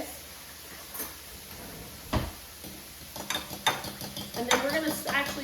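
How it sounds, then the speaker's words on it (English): Clinking and light tapping of a whisk against a bowl as ingredients are beaten together, starting sparse and growing into quicker, busier strokes toward the end, close by in a kitchen. "give these a little bit of a whisk"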